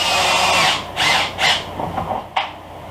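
A power drill drives screws into the urethane bumper lip of a 2005 Pontiac Grand Prix, giving three loud, close whirring bursts followed by a brief final spin.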